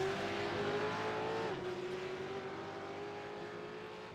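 Race cars overtaking in a Supercars/RUF racing video game, with a sustained engine whine that dips in pitch midway as cars jostle, a continuous layered drone held at moderate loudness.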